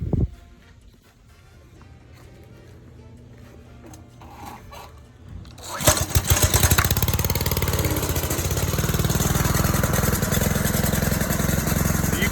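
A small pressure washer engine catching after a cold pull-cord start, first quiet rattling, then a sudden loud burst into a steady, close, buzzing run that stays strong to the end.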